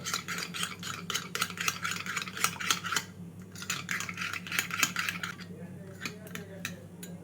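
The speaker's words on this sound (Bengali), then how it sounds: "একটা বাটিতে আমি নিয়ে নিচ্ছি দুই টেবিল চামচ টক দই দইটাকে ফেটিয়ে নেব" Two tablespoons of sour curd beaten in a bowl make rapid, even clicking strokes in two brisk bursts with a short pause between, followed by quieter scraping near the end.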